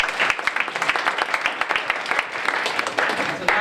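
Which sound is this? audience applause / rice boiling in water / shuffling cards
audience applause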